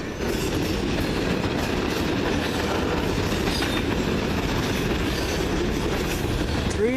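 A CN manifest freight train rolls steadily past close by at Ladysmith, a continuous loud rumble of wagons and rail noise with faint clickety-clack and occasional wheel squeal, no voices.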